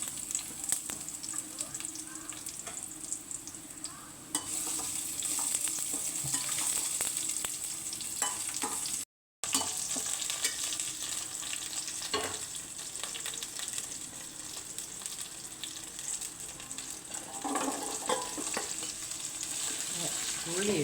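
Onion, fennel seeds, ginger and garlic frying for a cauliflower curry, a steady close sizzle in a pan with occasional stirring scrapes, running continuously apart from one brief cut.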